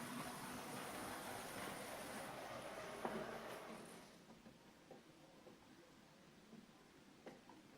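A model locomotive runs on test with a steady rumbling whir that fades after a few seconds, leaving faint clicks and a low residual hum, fairly quiet throughout.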